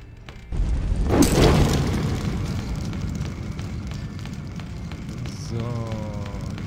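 A bomb blast in the Baldo platform game: one loud boom after a brief quiet start, trailing into a rumbling, crackling decay, with a rising whistle-like game sound near the end.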